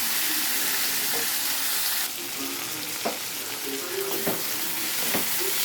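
Mutton and cluster beans fry in a pan with a steady hiss, broken by occasional clinks and scrapes of a spoon stirring, close and continuous with no talking.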